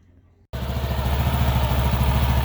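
A TVS Jupiter 125 scooter, freshly fitted with new front and rear variators and belt, starts abruptly after a moment of quiet and settles into a loud, close, steady running engine drone with a fine rattling pulse.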